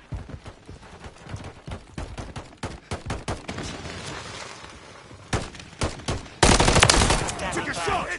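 Rapid bursts of video game gunfire crack out in quick volleys, some single shots and some automatic strings, growing louder and denser near the end, with brief voices in between.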